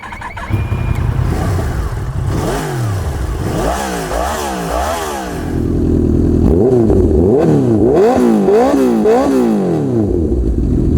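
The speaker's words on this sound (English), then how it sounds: "they also fitted it with a full aftermarket Akrapovic exhaust system" Honda CB1000R motorcycle fitted with a full Akrapovic aftermarket exhaust, revving loudly and close in a series of sharp rising-and-falling throttle blips, with a steady idle between bursts and no talking.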